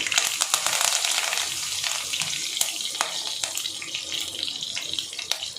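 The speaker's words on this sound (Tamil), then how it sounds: "கடுகு நல்லா பொரிஞ்சிச்சு." Mustard seeds spluttering in hot oil while a fish curry is being started, giving a steady close hiss packed with sharp crackling pops all the way through, with no talk.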